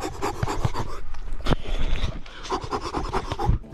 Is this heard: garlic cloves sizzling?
no